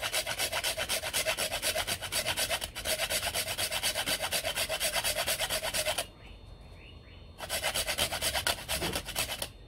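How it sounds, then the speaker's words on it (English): Half a whole nutmeg rubbed against a grater for custard, giving a steady rasping scrape in quick regular strokes, loud and close, pausing for about two seconds before the grating resumes. "You want a grate half nutmeg."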